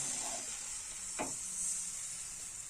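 Rice flour batter for patishapta pitha spread in a hot kadai, giving a steady high hiss and sizzle with one brief scrape partway through, close and fairly quiet.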